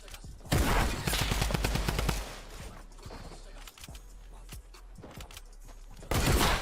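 Gunfire in a first-person shooter video game: rapid bursts of shots crackle loudly in the first couple of seconds, followed by scattered single shots and another loud burst at the end.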